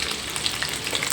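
Garlic frying in hot oil in a pan, a dense continuous crackling sizzle heard up close with no pauses, no voices over it.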